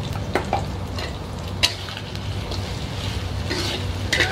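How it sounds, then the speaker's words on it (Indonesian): Tofu and tempeh fry in a pan while being stirred, a steady close sizzle broken by scraping and the light clinks of a utensil against the pan, with no talk. "Kita aduk sampai rata."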